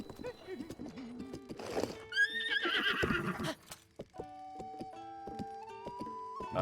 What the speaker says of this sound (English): Horsey, Horsey, Horsey.